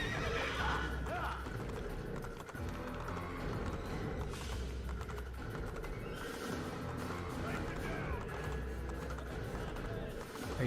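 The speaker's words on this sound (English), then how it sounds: "Are you chasing me? I'm on a horse." A horse gallops in the video game Assassin's Creed, its rapid clip-clop hoofbeats running steadily with neighing, under talk and game background sounds.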